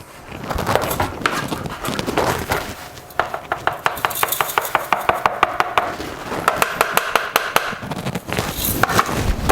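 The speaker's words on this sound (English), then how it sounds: "So now I just take this material, dump it back in the little pan, go to our 20 mesh screen." Black sand being dumped into a small pan and shaken through a 20 mesh screen while separating gold: close, busy scraping and rattling with bursts of sharp, rapid regular taps, no talking.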